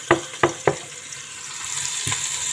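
Lentils with a pinch of powdered dried garlic get stirred in a cooking pot: three quick spoon knocks against the pot, then a soft steady simmering hiss and one more light tap.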